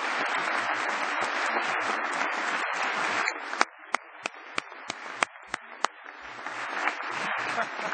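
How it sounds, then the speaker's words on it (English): An audience at a State of the State speech applauds in a dense burst of clapping, which thins to a handful of separate claps before swelling again. "Ron, you got a bigger round of applause than I did."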